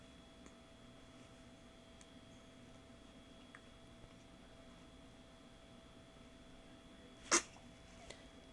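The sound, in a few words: baby sneezing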